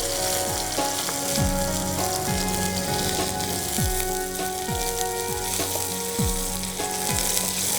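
Green chillies sizzle and fry in hot oil with cumin and curry leaves for a fasting-style potato dish, a loud continuous crackling hiss close by, punctuated by repeated scraping strokes of stirring.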